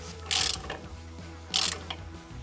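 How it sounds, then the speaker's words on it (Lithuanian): A bolt being screwed in while an engine is fitted into a BMW E30 M3 Hartge, with steady ratcheting clicks, two louder metallic bursts and mechanical rattling nearby, no speech. "Gal dar įsuksiu vieną varžtuką."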